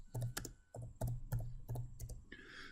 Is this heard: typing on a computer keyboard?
yes